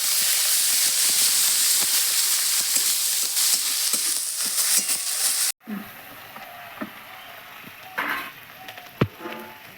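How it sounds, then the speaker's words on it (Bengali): Spice paste with cumin powder and sugar sizzles loudly in a pan, a continuous close hiss that suddenly cuts to a quieter simmer with a few scattered stirring clicks and knocks. "দিয়ে একটুখানি মশলাটা কষিয়ে নেবো"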